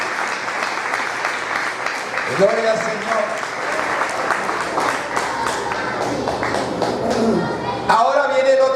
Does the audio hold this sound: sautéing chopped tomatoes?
no